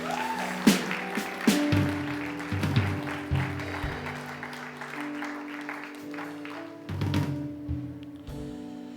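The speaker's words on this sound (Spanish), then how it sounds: "Dale un fuerte aplauso a Jesús." A church congregation applauds with scattered, uneven claps and thumps rising over sustained keyboard-like musical tones, swelling in the middle before thinning out toward the end.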